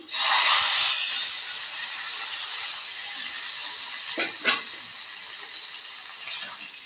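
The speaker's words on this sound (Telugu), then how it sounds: "ఉల్లిపాయలు వెళ్తున్నాయి ఇప్పుడు కొంచెము ఇంగువ సాంబార్లో పోయడం" A hot tempering of onions and asafoetida is poured into vegetable sambar, giving a loud, bright hissing sizzle that bursts in at once and then slowly settles into a steady, softer fizz, with a couple of brief clatters near the end.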